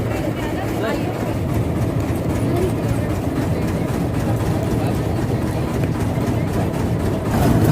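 Train carrying passengers toward an island near Mumbai, heard from inside the carriage as a steady low rumble and rolling drone that holds evenly throughout and swells slightly at the end.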